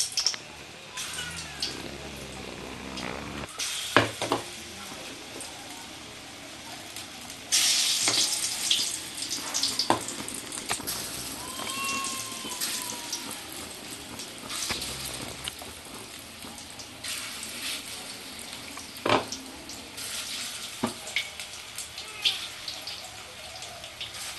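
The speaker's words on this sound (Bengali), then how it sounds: "আমি কোপ্তার বড়াগুলো গোল গোল ছোটো ছোটো করে ভাজবো" Small round balls of raw banana kofta fry in ghee for a Bengali-style curry, giving a steady close sizzle dotted with sharp crackles, pops and occasional utensil clicks.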